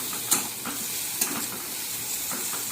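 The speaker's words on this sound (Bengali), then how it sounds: "পেঁয়াজের সাথে আমি উপরে আলুটাও তুলে দিয়েছি, একসাথে এর সাথে ভেজে নেওয়া হবে আর কি" Onions and potatoes frying together in a pan with salt, a steady close sizzle with a couple of sharp spatula clinks and soft stirring strokes.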